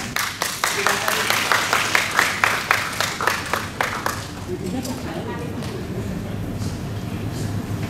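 Applause from a talk show audience welcoming Cenana and friends, with rhythmic clapping and voices that fade after about four seconds into a crowd murmur.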